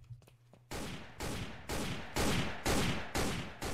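Rapid bursts of video game gunfire, about six loud evenly spaced volleys after a brief quiet start, each a sharp broadband blast with a decaying tail.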